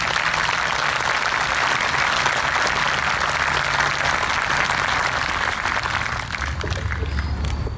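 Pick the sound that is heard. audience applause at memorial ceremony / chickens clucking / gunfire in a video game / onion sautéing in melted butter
audience applause at memorial ceremony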